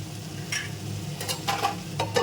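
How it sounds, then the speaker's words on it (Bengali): Cauliflower and potatoes sizzle steadily in a pan for katla fish curry, with a spatula scraping and stirring in several sharp strokes over the continuous frying hiss. "আলুও সিদ্ধ হয়ে গেছে আরও দু মিনিট কষাবো"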